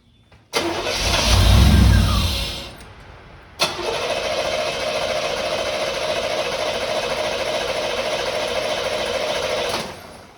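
A 1989 Pontiac Firebird with a tuned port engine cranks and catches, revs loudly, dips, then after a sharp click settles into a steady, close running drone that cuts off near the end.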